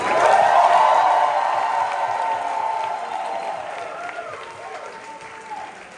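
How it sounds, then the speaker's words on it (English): Audience at a business school student musical giving a last round of applause with cheers and whoops, loud at first and then gradually fading over several seconds. "Can we get one last round of applause, y'all?"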